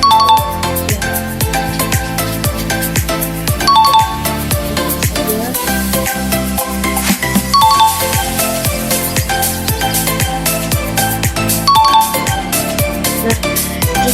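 Correct-answer effect from a Unity fruit-matching educational game: a bright, loud electronic jingle of plucked chime-like notes and steady beats, looping continuously without speech.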